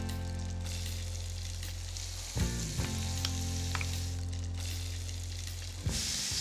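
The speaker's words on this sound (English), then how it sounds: "I'm gonna cook my onions right in here." Onions cooking in meat juices and flour give a steady close sizzle over a low kitchen hum, broken by a few clattering stirs and scrapes of a utensil against the pot, no voices.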